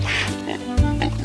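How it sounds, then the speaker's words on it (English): A cartoon pig oinks in a children's song, two short grunting bursts over bouncy music. "Ooh, a pig."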